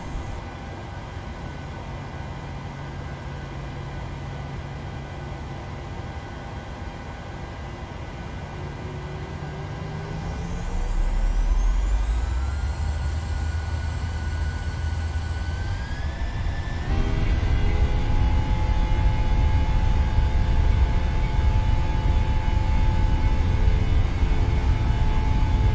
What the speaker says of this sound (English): enjoy the sounds of the PMDG 737-800 as we depart Exeter to go to Zakynthos